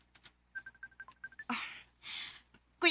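A phone keypad beeps out a dialing sequence of about ten short tones in quick rhythm, followed by bursts of louder noise, with no speech.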